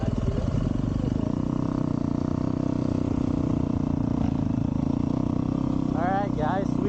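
A 2024 Yamaha YZ250F anniversary edition dirt bike engine running steadily with a buzzing, rattling drone throughout, with voices speaking briefly over it near the end.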